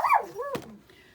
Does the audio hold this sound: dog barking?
yes